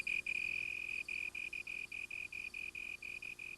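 A slender tree cricket trills in a steady, high, pure tone broken into rapid regular pulses, close and clear over a quiet night background, with no talk.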